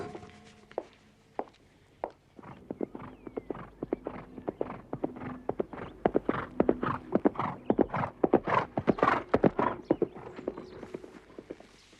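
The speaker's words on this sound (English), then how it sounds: "Beautiful horse." Hooves of a horse clip-clopping at a walk, starting with sparse single strikes and building into a steady, close rhythmic series of sharp knocks over about twelve seconds, with no talk.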